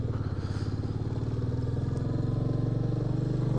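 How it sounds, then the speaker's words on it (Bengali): A motorcycle engine idles steadily with an even, low putter while the bike is parked at Sela Top on a snowy mountain pass, close and alone. "এইখানে বাইকটা পার্ক করব,"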